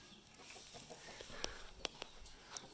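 A rooster clucks and calls a few times at a distance over a steady hiss of outdoor background noise at a campsite in Kulen National Park, Cambodia.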